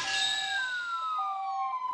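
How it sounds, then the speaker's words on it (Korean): A police car or ambulance siren wails steadily in a long falling tone, fairly close and loud, with no voices over it. "웬 사이렌 소리가 들리는"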